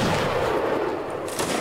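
Muskets fire in a Mount & Blade battle, a dense, loud burst of overlapping shots that echoes through the brief moment before trailing off.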